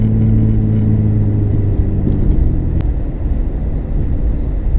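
A Chevrolet Malibu driving past outdoors, heard as a loud, close low rumble with a droning engine tone that fades as the car moves on.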